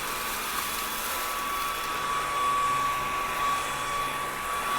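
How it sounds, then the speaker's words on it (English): Cordless stick vacuum picking rice up off carpet, a loud, steady high-pitched motor whine with airflow hiss that runs unbroken throughout. "And this vacuum doesn't seem to be leaving any rice at all."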